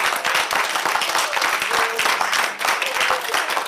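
Studio audience of a live radio show gives dense, continuous applause at the end of the broadcast, loud and close throughout the clip.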